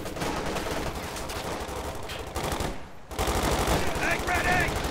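Rapid machine gun fire in the game Company of Heroes 2, dense continuous bursts rattling throughout with a brief pause near the middle before resuming loud, with faint background chatter.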